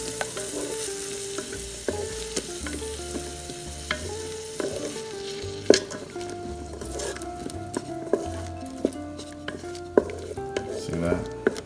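An egg fries for shrimp fried rice in a Ninja Foodi 10-in-1 cooker, a steady sizzle running throughout with repeated utensil scrapes and taps against the pot.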